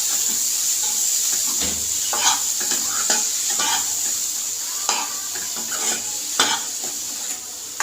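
Black peas being stirred into masala in a hot frying pan, a steady bright sizzle running throughout with repeated scraping and clinking strokes of a spoon against the pan, close and clear, with no talking.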